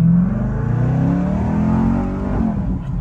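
A Corvette next-generation hybrid supercar accelerates hard, its engine rising from a deep low growl into a surging roar that swells and then eases, loud and close, with no talking.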